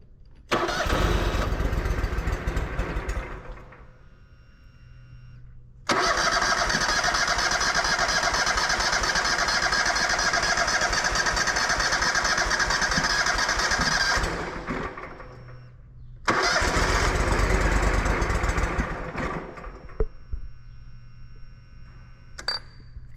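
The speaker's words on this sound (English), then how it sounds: "it just wants to crank and crank and crank and crank" Engine with a plugged fuel filter cranking repeatedly without catching, three long loud starter-driven grinding spells broken by short pauses, the last one trailing into faint clicks.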